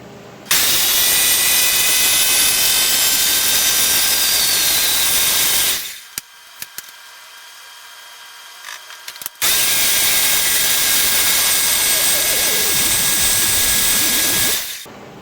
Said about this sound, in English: I think that's as smooth as my blender is going to get it